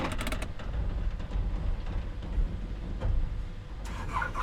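A Caterpillar truck engine starts up in the off-road driving game SnowRunner with a few quick clicks, then settles into a low, rumbling idle. A brighter burst comes near the end, and no one speaks.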